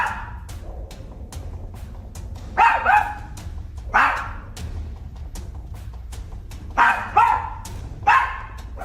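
A dog indoors barks at an empty spot on a sofa, loud barks coming singly and in quick pairs over a steady low room hum with faint regular clicking.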